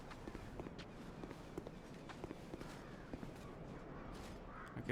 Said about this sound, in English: I can hear player footsteps.